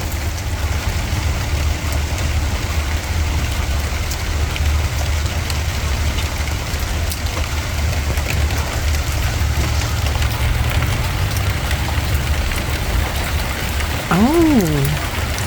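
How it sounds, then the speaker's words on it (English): Steady rain falls outdoors during Alaska's early rainy season, a constant hiss of drops with a low engine-like rumble underneath, and a short rising tonal sound near the end. "Guess what? It's raining!"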